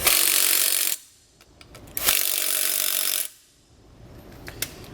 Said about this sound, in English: I'm going to grab a 9/16 socket and tighten them up.